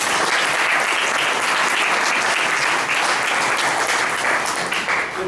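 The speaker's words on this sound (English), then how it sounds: "So let's give her a round of applause." An audience at a meeting gives a sustained round of applause, a thick, continuous patter of many hands that stays loud throughout and dips slightly near the end.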